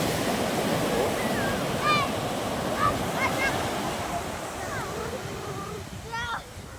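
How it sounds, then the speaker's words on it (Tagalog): Ocean waves rolling ashore at sunset, a constant broadband roar with wind buffeting the microphone, close and steady, while people talk and children's voices rise faintly over it. "Ganda, oh, sarap ng alon oh."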